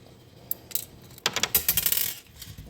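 Small metal screws drop and rattle during installation of an LED score display kit on a 1979 Gottlieb System 1 pinball machine, giving a few sharp clinks followed by a dense burst of tinkling metallic taps, close and fairly loud.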